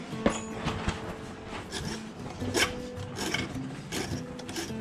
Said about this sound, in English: grab a file.